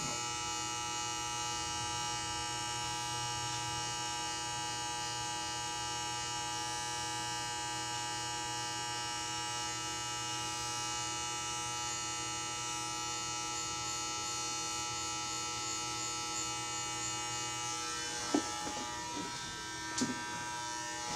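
Electric hair clippers running while cutting a low taper, a steady close buzzing hum that holds for most of the time, then changes pitch with a few light knocks near the end.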